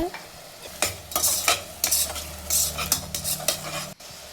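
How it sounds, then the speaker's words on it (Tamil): Spices including asafoetida, garam masala and pepper sauté in a pan for variety rice, as a spoon stirs and scrapes in repeated strokes over a steady sizzle, close and clear with no talk. "பெருங்காயத்தூள், கரம் மசாலா, பெப்பர் போட்டு நல்லா வதக்கி விட்டுக்கலாங்க."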